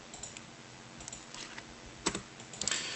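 Number being keyed in on a keyboard, a quiet scatter of light clicks that bunch into a faster flurry near the end, with no voices.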